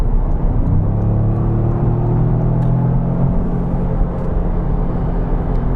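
A gasoline-engined Toyota GR Yaris RZ High performance with the GR-DAT automatic accelerates from highway speed. A loud, steady cabin rumble carries a rising engine tone that climbs over a couple of seconds before settling back into the road and wind roar.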